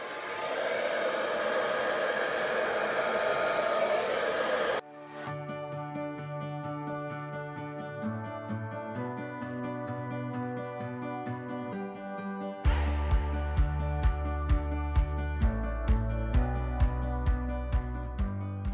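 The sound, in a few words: hair dryer blowing paint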